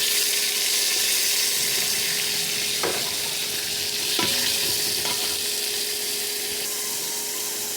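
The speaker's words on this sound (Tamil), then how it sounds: "வெங்காயம் நல்லா வதக்கிடுச்சு. தக்காளி போடுவோம்." Onions being sautéed in a pan for a meal maker gravy, a loud continuous sizzle close up with a few sharp scraping stirs of a utensil against the pan.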